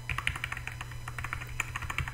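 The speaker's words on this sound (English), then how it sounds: "Sorry if you can hear my keyboard and mouse." Rapid, close computer keyboard typing with a few sharper clicks, likely the mouse, during a Minecraft session, a steady patter of keystrokes over a low constant hum.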